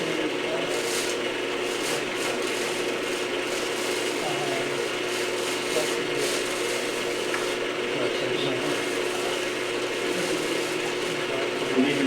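Small rotary drill whirring steadily while simple pendants are shaped, a continuous mechanical grind with faint scraping texture running throughout at moderate level, with faint talk now and then.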